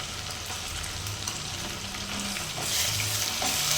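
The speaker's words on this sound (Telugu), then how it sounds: "ఇప్పుడైతే అల్లం వెల్లుల్లి పేస్ట్ వేద్దాం." Freshly ground ginger garlic paste fries with onions in a steel pan, giving a constant close sizzle that grows brighter and louder near the end.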